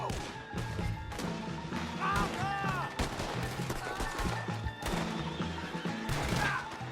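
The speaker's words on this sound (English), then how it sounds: "Horses are over there." Horses whinny several times amid a busy Red Dead Redemption 2 game soundscape of hooves, distant gunfire and clatter, with voices occasionally under it.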